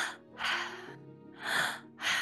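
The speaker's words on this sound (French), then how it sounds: "On va faire une dernière session de 30 respirations, les mêmes. Bouche grande ouverte." Deep open-mouth breaths during a guided breathing exercise: three strong, airy inhale-exhale cycles at a steady rhythm, close and loud, with no speech.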